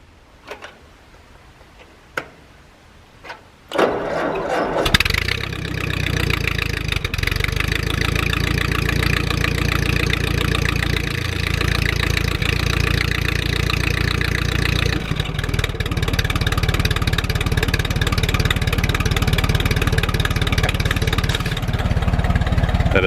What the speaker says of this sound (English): That is one fine running Ford 8N tractor